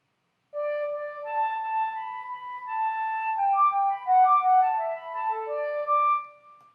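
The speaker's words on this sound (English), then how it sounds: "Here's the sound of the flute doing something with Twinkle." A metal flute plays a variation on Twinkle, a clean solo line of breathy, pure notes that move stepwise and end on a low held tone.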